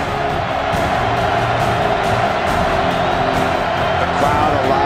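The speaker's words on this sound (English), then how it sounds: "The crowd alive and loving." A large college football stadium crowd at a Texas Tech versus Texas game roars in a continuous, loud wall of cheering, with some voices rising above the sustained noise.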